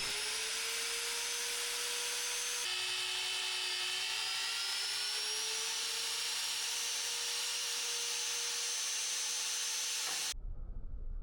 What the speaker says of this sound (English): used the mag drill to make a few holes to mount the airbags